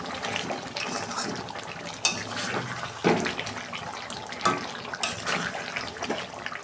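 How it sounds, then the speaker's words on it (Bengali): Hot water splashes and pours into a pot of simmering chicken curry in a home kitchen, a continuous close watery rush with a few sharper splashes and knocks. "আমি গরম জল দেবো।"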